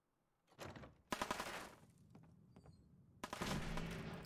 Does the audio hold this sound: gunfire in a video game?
yes